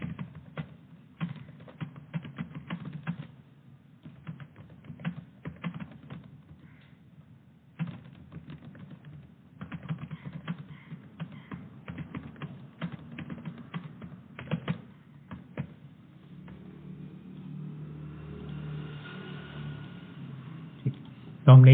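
Light typing on a computer keyboard while entering HTML code, with irregular clusters of soft close taps running through the whole stretch and a low background hum near the end.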